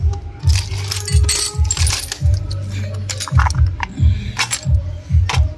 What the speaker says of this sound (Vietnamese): Rồi ở đây em có nắp xăng zin nữa nè nghe nè